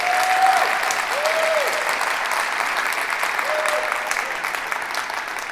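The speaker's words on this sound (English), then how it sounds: "That deserves a round of applause." Steady, full applause from the audience at Flint's 2024 State of the City address fills the room. A few brief vocal sounds rise above the even wash of clapping.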